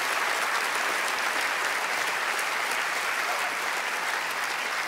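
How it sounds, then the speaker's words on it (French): Loud, thick applause from a television show audience for a performer, an even roar of clapping that holds steady throughout. "Un tonnerre d'applaudissements pour Vincent"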